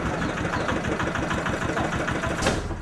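A throttle-run engine powers a machine that stirs faecal sludge, a steady mid-pitched chugging drone with a regular pulsing rhythm, close and fairly loud throughout, with a brief rise in noise near the end.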